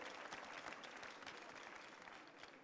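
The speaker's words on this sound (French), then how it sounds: "Je vous demande de l'applaudir" Faint, distant applause fills a hall at the Coupe du Monde de la Pâtisserie prize-giving ceremony, an even, unbroken rain of clapping from many people.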